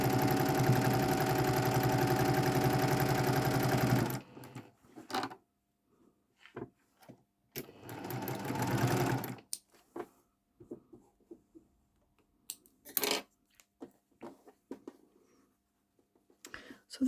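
Sewing machine stitching fabric in short runs, a loud buzzing whir for several seconds, then quiet handling clicks and knocks, a second burst of stitching, and more scattered taps.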